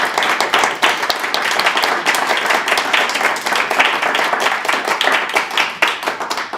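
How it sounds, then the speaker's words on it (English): An audience at a school board candidate election forum applauds, a steady, dense wash of many hands clapping at even loudness for several seconds with no talk over it. "Can we give them applause?"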